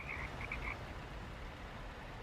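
Frogs croaking in a truck simulator game, a few quick chirping calls early on over a continuous low rumble that carries on alone afterward.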